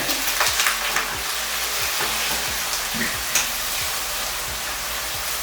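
Carrots fry in hot oil with a steady, close sizzle and crackle, broken by occasional stirring clicks, and no talk.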